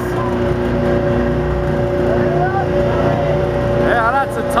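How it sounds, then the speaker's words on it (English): Tugboats race on the water in New York City, their engines droning loudly and steadily from close by, with rising tonal whines and people talking over the motor noise. "that's a tugboat race"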